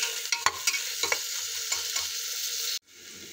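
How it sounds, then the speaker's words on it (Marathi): Curry leaves sauté in oil with masala for khichdi, giving a close, steady sizzle with a few sharp stirring clicks. The sizzle cuts off abruptly near the end and leaves faint quiet. "2 मिनिटं कढीपत्ता परतून घेतल्यानंतर"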